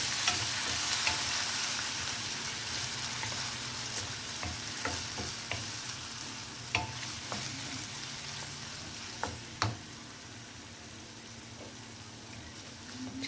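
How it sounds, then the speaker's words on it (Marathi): Tomato puree frying with onions for an okra dish gives a soft, steady sizzle broken by several light scraping stirs and taps, close but fairly quiet, with no talking. "आता यामध्ये आपण एक टोमॅटो प्युरी केली होती टोमॅटोची ती टाकूया। ती छान परतून घ्यायची।"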